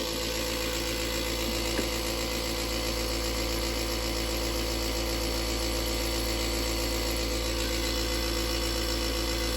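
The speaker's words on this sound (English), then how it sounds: "You're going to hear my air compressor." An air compressor runs steadily and loudly with a constant mechanical drone while an O scale Lionel Big Boy steam locomotive model is weathered, the hum unbroken and without talk.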